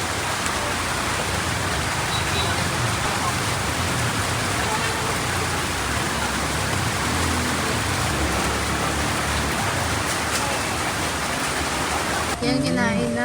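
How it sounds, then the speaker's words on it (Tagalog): Very heavy rain pounding on a car from inside during a trip in Cebu and Bohol, a loud, dense, steady roar of drumming water that fills the whole stretch with no letup. "kasi sobrang lakas ng ulan"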